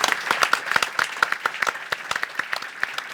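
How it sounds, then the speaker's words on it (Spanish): A small audience at a book presentation claps in a short burst of scattered applause, moderately near and fairly soft, with no talking over it. "Luego le damos un aplauso."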